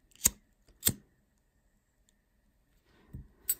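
Fishing line snipped while finishing a beaded ring, two crisp scissor cuts close together near the start, a pause, then a softer handling rustle and one more sharp snip, all close and without talk.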